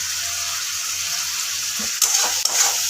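Spice paste of turmeric, Kashmiri red chili powder and salt fries in a pan for egg curry, giving a steady close sizzle with a few louder bursts of stirring and scraping toward the end.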